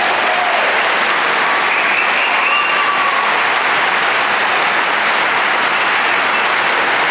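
Sustained applause from a graduation ceremony audience honoring students receiving scholarships, a dense, steady wash of clapping lasting throughout without pause.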